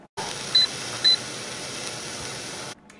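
A Ball FreshTech jam and jelly maker gives a steady electronic hum with two short, high beeps close together near the start, then the hum cuts off.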